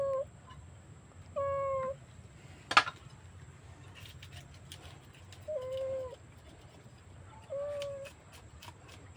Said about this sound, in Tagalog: Ngaw ka nang ngaw.